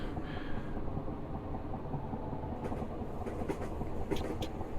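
Class 325 electric multiple unit running in Train Simulator Classic on the Bedford to Gatwick Airport route, giving a steady rumble of rail noise with faint clicking over the track, with no talk.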